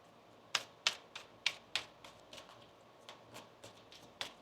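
A tarot card deck shuffled in a quiet room: a quick series of crisp, sharp card snaps and taps at irregular spacing, a few louder than the rest, with no talking.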